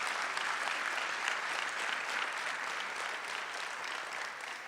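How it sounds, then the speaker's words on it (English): An audience at a conference opening ceremony applauds the International Sign interpreting crew, a dense, even wash of clapping from many hands that holds steady for several seconds. "Can we please give them a round of applause?"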